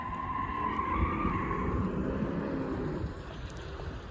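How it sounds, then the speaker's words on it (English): Car tyres screech on Bloor Street West in Etobicoke, Toronto, a sustained high squeal over traffic and wind noise that fades toward the end, moderately loud and a little distant with no talk. "wonder what car that guy was driving there that caused the screech of his tires"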